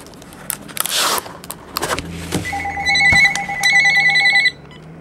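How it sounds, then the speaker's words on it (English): Telephone ringing during a sports card box break, with repeated electronic ring tones in bursts after some shuffling and rustling handling noise, fairly close and loud, no talk. "Uh-oh, cue the phone."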